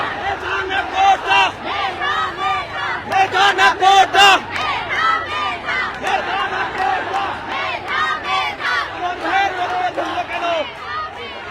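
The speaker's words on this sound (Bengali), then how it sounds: "সাধারণ শিক্ষার্থীরা এখানে কি ধরনের স্লোগান দিচ্ছেন" Polytechnic institute students protesting in Bogura chant slogans in unison, a loud rhythmic crowd of many voices rising and falling in repeated shouted bursts.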